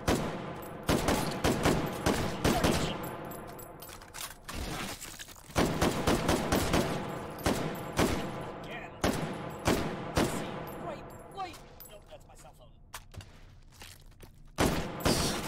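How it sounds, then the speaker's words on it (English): Rapid bursts of video game gunfire from a competitive strategy match, dense and continuous volleys with sharp repeated cracks like machine-gun fusillades, loud and close with little pause throughout. "That's his gun."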